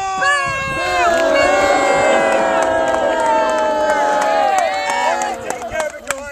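A theatre crowd in a staged Robin Hood's Wedding scene cheers loudly for Prince George, a sustained mass of overlapping shouts and voices that fades into scattered calls at the end.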